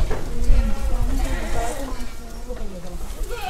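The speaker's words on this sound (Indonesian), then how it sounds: "Ini teman-teman ada kambing burnya." Boer goats bleat repeatedly on a farm with breeding does, the wavering cries close and overlapping, while people talk over them throughout.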